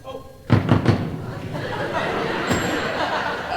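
Audio drama door-knocking effect: three quick, sharp knocks on a door close up, then a low room murmur carries on in the background.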